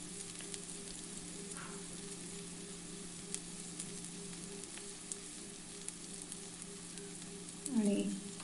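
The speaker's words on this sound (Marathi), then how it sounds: "कांदा अगदी गुलाबी रंग येईपर्यंत चांगला परतून घ्यायचा आपण।" Chopped onion frying in hot oil with cumin seeds for matar paneer: a faint, steady sizzle that runs the whole time under a low hum, with a brief louder stir near the end.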